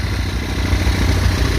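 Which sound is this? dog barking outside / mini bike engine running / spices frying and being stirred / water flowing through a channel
mini bike engine running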